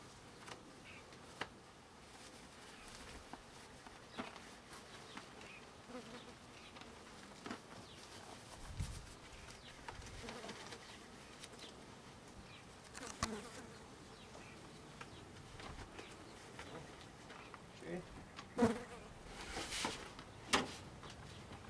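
Honeybees buzz steadily around an opened beehive during an inspection, a soft continuous drone with occasional louder passes of single bees close by and faint handling knocks.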